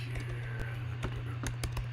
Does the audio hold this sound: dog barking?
no